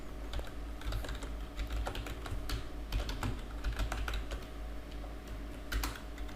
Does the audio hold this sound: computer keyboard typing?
yes